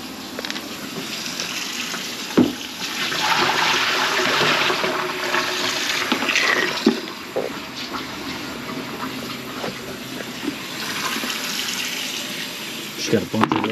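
Water drains noisily and steadily from a clogged kitchen sink, a loud continuous rush and gurgle with occasional clunks and knocks, while someone speaks briefly over it.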